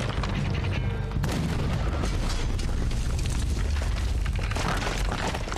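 Cannon fire in the video game Red Dead Redemption 2, during a ship battle: a dense, continuous barrage of loud, booming blasts with rumbling low end, overlapping without pause.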